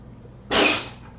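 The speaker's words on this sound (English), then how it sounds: "Let me see if I have to sneeze." A single sharp sneeze bursts out close to the mic in a quiet room during a casual podcast chat, one broadband blast that fades off quickly.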